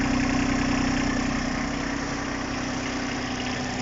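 A Japanese four-wheel-drive tractor engine idles steadily close by, an even low mechanical thrum with no knocks or changes in pace.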